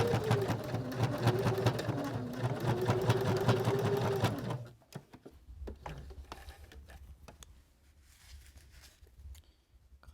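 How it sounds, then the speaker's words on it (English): Sewing machine top stitching around the edge of a homemade sewing kit, running steadily and loudly for about four and a half seconds, then stopping and leaving quieter handling and clicking sounds. "And now we've top stitched all the way around"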